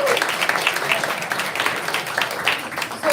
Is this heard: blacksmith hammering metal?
no